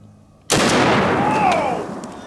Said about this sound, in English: All right, let's take one more shot.